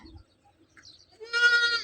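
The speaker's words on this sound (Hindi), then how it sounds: "वो ब्राउन बड़ी बकरी थी है ना, उसकी बच्ची है।" A young goat kid, offspring of a big brown nanny goat, bleats in a loud quavering call near the end of the clip after a quiet start, on a village farm.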